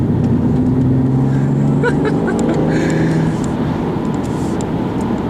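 A 2015 BMW M235i taken fast through a corner, its engine droning steadily and loudly with a sustained rumble and road noise heard from inside the car.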